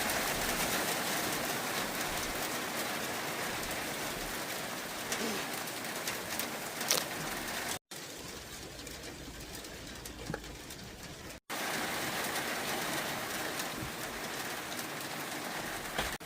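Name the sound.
heavy rain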